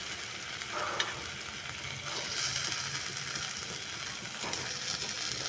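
Small boiled potatoes go into a frying pan with oil and Kashmiri chillies, raising a dense, steady close sizzle with a few brief louder spits and no voices.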